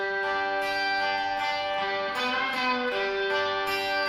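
An electric guitar plays through an effects pedal, giving sustained, shimmering tones with shifting pitches in a continuous passage. No one speaks.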